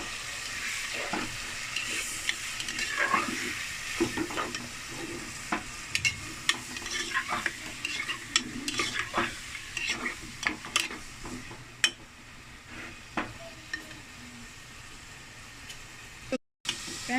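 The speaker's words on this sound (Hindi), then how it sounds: "ये देखें कि चिकन जो है वो 5 मिनट में फ्राई हो गया" Chicken pieces frying in a pan with sautéed garlic over lowered flame, a steady sizzle with stirring scrapes and clinks of utensil against the pan throughout, fairly close.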